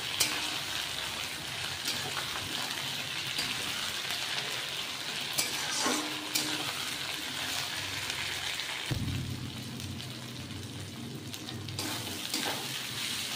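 Crushed ginger and garlic paste frying in a pan for a wedding-style mutton curry, a steady close sizzle running throughout with occasional stirring scrapes and a brief louder burst partway through.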